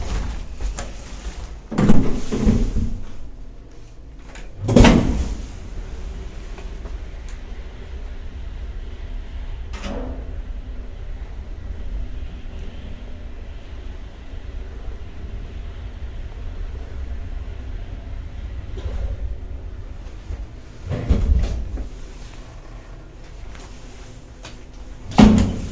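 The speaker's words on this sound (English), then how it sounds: "a very interesting IGV lift without inner doors in a block of flats" An old IGV lift without inner doors in a block of flats rumbles steadily during the ride, punctuated by loud mechanical clunks and door bangs at the start, middle and end.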